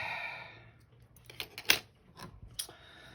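Scissors snipping off an embroidery thread tail on a stitched journal page, a couple of sharp close clicks after a soft rustle, quiet and brief.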